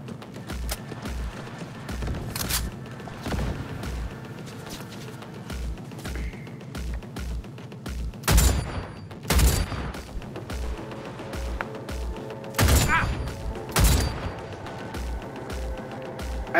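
Turret gunfire in Cyberpunk 2077: rapid repeated shots in quick rhythmic bursts with several louder, heavier blasts standing out, close and sustained throughout, with no talking.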